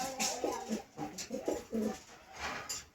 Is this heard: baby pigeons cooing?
yes